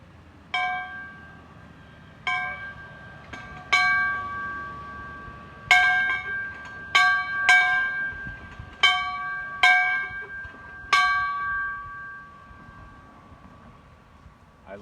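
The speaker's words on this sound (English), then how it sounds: "Hold on, let's ring the bell." An outdoor bell bought at a garage sale, rung at a house in Florida: about a dozen clear metallic strikes at uneven intervals, each leaving a long ringing tone that overlaps with the next.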